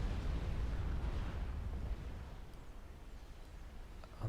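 Deep rumbling of nuclear explosions in the strategy game Supreme Commander, a broad, continuous roar that slowly fades and swells again at the end, with no voices.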